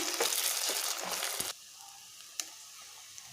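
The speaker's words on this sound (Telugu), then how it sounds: "ఇలా ఎగ్స్ని ఇలా కలిపేసుకోవాలండి." Beaten eggs hiss and sizzle loudly in a hot pan for an Indian egg fry for about a second and a half, then the noise drops to quiet spitting with one sharp clink.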